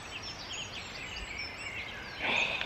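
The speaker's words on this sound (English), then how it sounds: "Peace and quiet, just the sound of the birds chirping." Birds chirp and warble faintly in the open air, with a louder, brighter call rising near the end over a soft outdoor hush.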